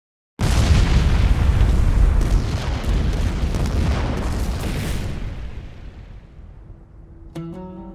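A huge booming explosion of gunpowder stored in the Parthenon bursts in suddenly, then a long rumbling roar slowly fades, with a faint tonal sound near the end.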